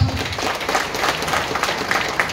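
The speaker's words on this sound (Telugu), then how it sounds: "మనోహర్ సార్కి ఒకసారి స్పెషల్గా క్లాప్స్ ఇవ్వండి" An audience at a business plan meeting breaks into dense, steady applause for Manohar sir, many hands clapping at once in a fairly loud, continuous patter.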